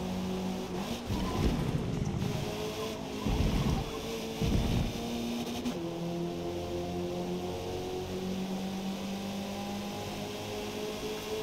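Mazda Miata spec race car engine in Forza Motorsport, a steady droning whine held flat out with rising and falling harmonic tones and a few short bursts early on.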